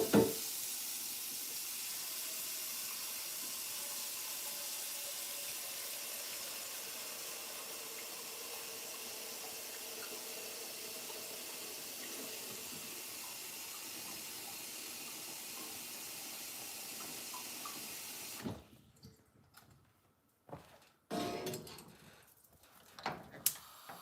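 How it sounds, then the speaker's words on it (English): Water runs steadily from a kitchen tap for about eighteen seconds as an even, quiet hiss, then cuts off, leaving faint scattered kitchen clatter. "Let me get this water going."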